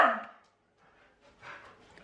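A pet dog gives a sharp nearby bark at feeding time, followed by a softer, fainter yip or woof a second later in a quiet room.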